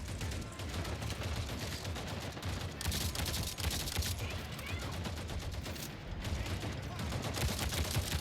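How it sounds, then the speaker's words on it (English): Rapid gunfire from a firefight in Avatar: Frontiers of Pandora, a steady dense crackle of shots running the whole stretch with scattered bursts and no quiet gaps. "This man's over here shooting Carol."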